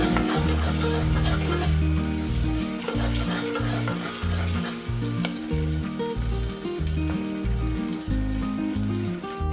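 Onions and chopped chillies fry in a pan until browning, giving a steady, loud, close sizzle that continues throughout with faint kitchen clatter and no talk.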